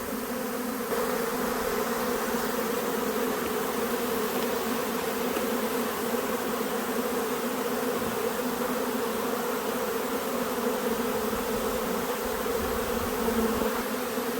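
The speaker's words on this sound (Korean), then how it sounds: "군복 나왔던 벌이 다시 들어가고 있습니다" A honeybee swarm around a hive during acacia honey season, with bees pouring out and returning inside: a dense, steady buzzing drone of countless wings fills the whole stretch, close and unbroken, with no voices.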